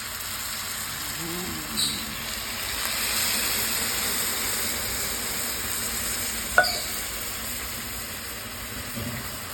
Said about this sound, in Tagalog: We add the coconut and the santol.